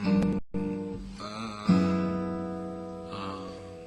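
A few hybrid guitar chords strummed in sequence, each ringing out and sustaining, with a short gap after the first chord; no talking.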